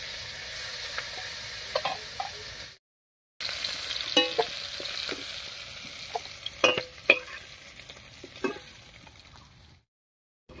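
Prawns fry lightly in oil with a soft, steady sizzle and scattered sharp clicks of a spatula or tongs against the pan, close up, with two short drops to silence.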